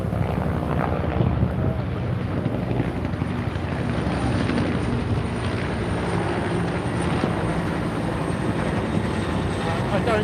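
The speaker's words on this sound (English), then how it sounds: "they've got a helicopter going over" A helicopter flies over Washington DC, a steady low rotor drone that holds loud throughout, mixed with outdoor wind rumble.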